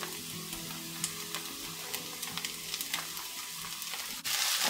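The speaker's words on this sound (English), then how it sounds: "And give that a good stir." Sliced ginger frying in a pan for a vegan lentil curry, a steady close sizzle broken by scattered clicks of a spoon stirring, with a brief shift in the hiss near the end.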